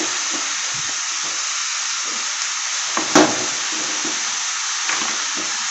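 Turmeric, salt, cumin and coriander powder sizzle steadily in hot oil in a pan, with a spoon clinking and scraping as the spices are stirred; no talking.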